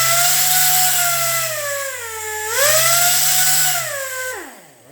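Vevor orbital sander running with its muffler removed, a loud steady whining drone that dips and rises in pitch as the speed varies, then winds down at the end, close and alone.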